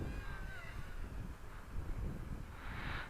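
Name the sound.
wind while flying Hubsan X4 quadcopter outdoors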